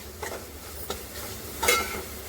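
Goda masala sautéing in a pan for mung and matki misal, giving a low sizzle with a few scraping stirs and one sharper clink of a utensil against the pan.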